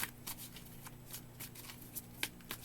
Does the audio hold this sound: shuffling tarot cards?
yes